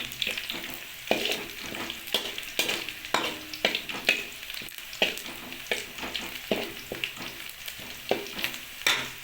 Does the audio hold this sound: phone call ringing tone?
no